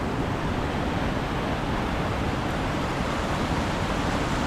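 Waterfall on the High Shoal Falls hiking trail, a dense steady broadband roar of falling water, close and loud throughout with no voices.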